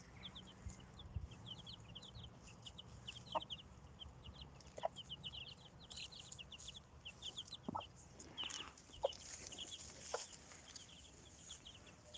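About ten small chicks peep in quick high chirps, a busy continuous chorus with occasional louder calls and rustling, fairly close.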